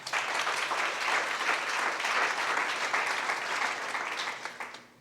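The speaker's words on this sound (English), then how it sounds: "Give him a round of applause." Warm applause from a seated audience at a guest speaker talk, steady clapping without voices that fades out near the end.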